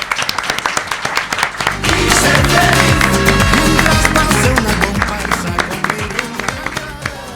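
Loud, sustained applause and cheering from a studio audience on a Catalan radio show, swelling quickly after a brief pause and continuing densely before thinning into scattered claps.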